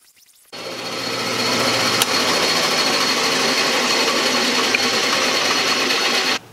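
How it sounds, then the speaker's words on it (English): Bandsaw cutting a wavy line through a blank for making micarta, a steady whining buzz that starts abruptly, holds loud and even for about six seconds, then cuts off. "I'm going to start by cutting a wavy line along here"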